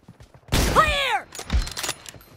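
Sniper fire in a BGMI team deathmatch: a loud, close burst at the start with a ringing, bending tail, followed by a second, softer impact about a second later.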